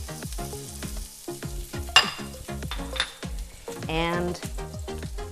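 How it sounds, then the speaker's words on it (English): Garlic frying in olive oil in a paella pan, a steady close sizzle with stirring clatter and a brief scrape, while a voice talks over it. "now I'm going to put a little bit more oil in the pan, and I'm going to add a little bit of garlic"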